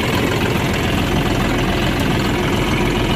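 A John Deere 5405 CRDI tractor engine idles loud and close after a key start, a dense, steady diesel rumble with a slight knocking texture throughout.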